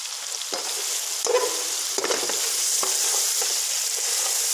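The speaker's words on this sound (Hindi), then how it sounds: "एक से 2 मिनट तक हम इन मसालों को अच्छे से भूनते हैं" Whole cumin, black peppercorns, star anise, black cardamom and cinnamon pieces sizzle steadily in a hot pan, with a constant hiss broken by a few soft stirring scrapes, heard alone and up close.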